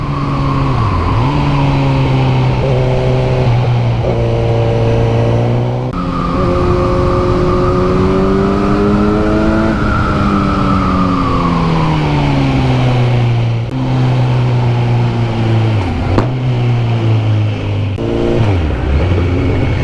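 A motorcycle engine revs continuously and loudly on the Passo del Pian Cavallo mountain road, its pitch rising and falling through repeated throttle blips and gear changes, close by with no talking.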